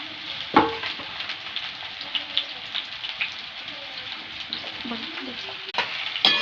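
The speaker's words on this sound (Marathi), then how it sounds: "त्याच्यामध्ये आता भेंड्या टाकून त्याला छान तळून घेते" Sliced okra fries in oil in a wok with a steady, bright crackling sizzle like light rain, punctuated by a few sharper pops and stirring knocks, close and continuous.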